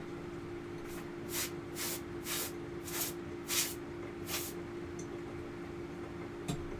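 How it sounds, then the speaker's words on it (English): Compressed air sprayed in a series of about seven short hissing bursts to blow dust off a dirty Nintendo GameCube in a basement workshop, each blast close and sharp over a steady low hum. "We're gonna go ahead and spray this off with some compressed air because it is a little filthy."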